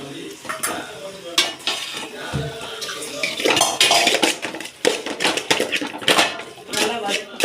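Ginger garlic paste sautéed lightly in oil, with busy clattering of a spoon against the pan, scraping and a crackling sizzle, irregular and close, with some voice in the background.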